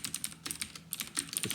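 Rapid, uneven keystrokes on a computer keyboard while code is being typed, close and moderately loud, with short pauses between bursts of clicks and no talking.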